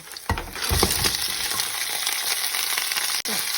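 Crab stir-fries with curry powder in a hot pan, giving a loud, steady, close sizzle broken by a few scraping stirs at the start, with no talking.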